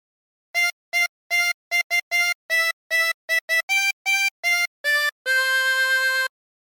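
Jingle Bells played on a 16-hole tremolo harmonica: a run of short, clean reedy notes in a steady rhythm, finishing on one long held chord, close and clear with no talk.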